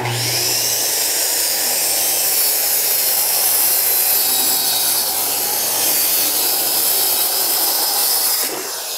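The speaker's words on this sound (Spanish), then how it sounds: "solo voy a seguir con la cuchilla de mi sierra y cortar eso" A handsaw cuts steadily through a wooden board while the walls of a backyard shed are built, a loud, continuous rasping stroke that runs without pause for about eight seconds before easing off at the end.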